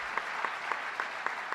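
A town hall audience claps steadily, a soft, even wash of applause with faint periodic accents, heard alone without talk.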